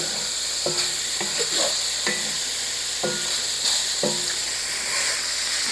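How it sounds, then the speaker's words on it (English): Bacon and onions sizzle in a home kitchen pan, a steady bright hiss broken by several clattering stirs of a utensil, close and unaccompanied by talk. "Not much better than bacon and onions frying."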